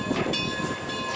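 Vintage train in continuous operation since 1882 running on the historic narrow-gauge railway to Durango, Colorado: a steady, dense rumble of wheels and cars rolling along the track, heard close and continuous without pause.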